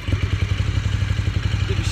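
A 2015 Ducati Streetfighter 848 engine runs close by with a rapid, throbbing idle clatter, loud and steady through the short moment.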